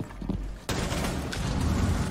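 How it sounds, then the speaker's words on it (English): A single sharp gunshot in Rainbow Six Siege cracks in abruptly partway through, followed by a sustained noisy wash of in-game sound at steady loudness. "what a prediction shot to take him out"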